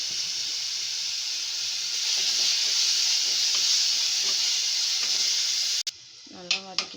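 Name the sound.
sautéing ground onion paste in a pan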